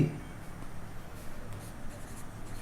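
A pen scratches steadily across paper while a class 10 maths triangle solution is written out, a soft, continuous scraping close by with no talking.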